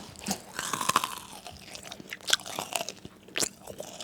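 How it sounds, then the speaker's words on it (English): Close crunchy bites and chewing of fried chicken tenders, several crisp crackles scattered over a few seconds, with no talking. "Just listen to this crunch."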